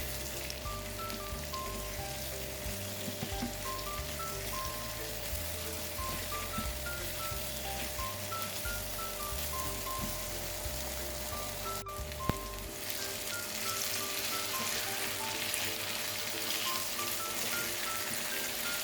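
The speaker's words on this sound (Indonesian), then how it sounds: "Nah kalau udah langsung kita tumis semua bumbunya ini sampai harum, sampai agak kekeringan." Spice paste with lime leaves sautéing in a pan for coconut-milk chicken soto, giving a steady, even sizzle that continues throughout under background music.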